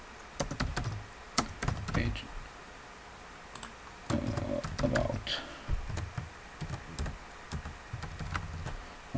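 Typing on a computer keyboard into a web feedback form, with uneven bursts of close key clicks and pauses between them, alongside a few low thumps and some quiet, intermittent speech.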